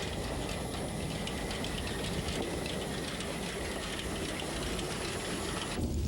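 A train runs steadily along a German branch line on a curving stretch, its continuous rumble and faint clickety-clack of wheels over rail joints filling the whole clip, close and even throughout.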